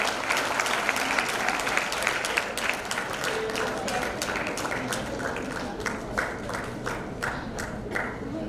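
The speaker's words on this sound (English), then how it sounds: "Huge round of applause for him." An audience at a breast cancer awareness stage play claps steadily and loudly for several seconds, a dense wash of hand claps with some sharper individual claps standing out, and a voice briefly speaking underneath.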